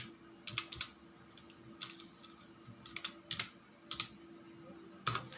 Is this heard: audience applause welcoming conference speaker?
no